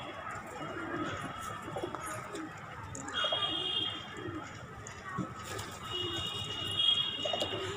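Wild pigeons coo softly in low, repeated murmurs on a rooftop against outdoor background noise, with a few brief higher tones in the mix.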